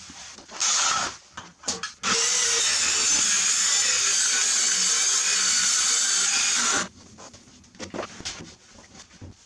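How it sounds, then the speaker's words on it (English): A power saw cutting a plywood lid for a built-in coffee table storage box in a vintage 1974 Avion camper, one loud sustained cut of several seconds framed by brief handling knocks and clicks. "So I'm about to cut the custom coffee table lid."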